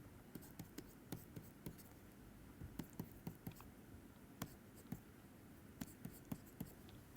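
Chalk or marker writing on a board during a physics lecture, a scattered run of light taps and short scratchy strokes over faint room noise.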